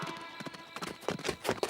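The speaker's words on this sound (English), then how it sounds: "A horse! They're coming!" Horse hooves clip-clop in a quick, uneven rhythm, growing louder and closer over a couple of seconds in a Lucky Luke cartoon, with no talking.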